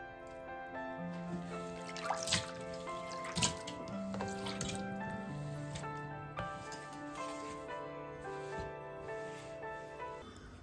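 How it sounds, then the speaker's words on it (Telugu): Kitchen utensils being washed under a running tap, with steady splashing water, clinks of metal and dishes, and occasional louder clatters, close by and with no talking. "ఇంక యుటెన్సిల్స్ అన్నీ కూడా వాష్ చేసేసుకుంటున్నాను"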